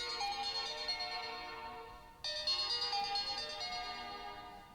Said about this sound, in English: we can check out the ringtone